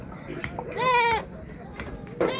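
A goat bleats loudly for about half a second at a busy goat market, a wavering nasal cry standing out over a constant crowd murmur and talk, with another short bleat starting near the end.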